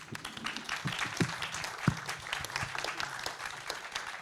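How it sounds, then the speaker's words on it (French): Conference audience at a European health data event applauding the panel speakers, lively clapping from a room full of people with distinct individual claps standing out in an irregular, sustained rhythm. "On peut les applaudir."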